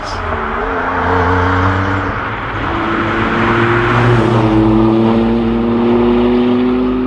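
A 1992 Jaguar XJ220 supercar engine drones loudly and steadily at close range, its pitch climbing gradually as the revs rise, with no voices over it.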